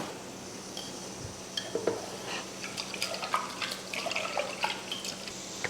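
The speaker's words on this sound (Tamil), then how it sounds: "அடுத்து புளியை கரைச்சிக்கலாம்." Tamarind squeezed and dissolved by hand in water for rasam gives soft, wet squelches and light sloshing, intermittent and close, growing more active after a quiet start.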